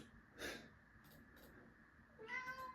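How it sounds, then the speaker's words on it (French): A pet meowing indoors, a couple of faint, short meows with a soft snort or breath between them, close and quiet, with no talk. "vous entendez beaucoup mon chien miauler"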